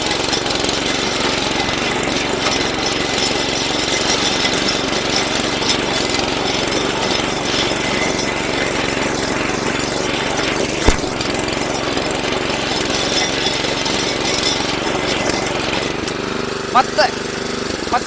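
A 7.5 HP Agri 7Hills power tiller engine runs steadily in first gear, a loud, continuous close-up drone with a few sharp knocks near the end.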